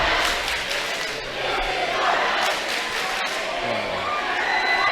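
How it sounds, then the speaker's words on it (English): A high school basketball crowd at a sectional championship, West Washington fans chanting the "This is our house" cheer as Crothersville leaves, a dense continuous roar of many voices shouting in unison, loud and close throughout. "The Senators start with the "This is our house" cheer as Crothersville is leaving"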